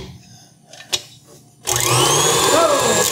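An electric mixer switches on and whirs steadily and loudly through apple crumb muffin batter, after a few quiet moments of kitchen noise.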